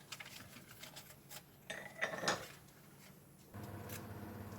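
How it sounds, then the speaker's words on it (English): Fork or utensil clinking against a bowl while an egg is beaten with salt and pepper for chicken chow mein, faint irregular taps and clatter at close range, no talking. "Beat the egg, little bit of salt and pepper."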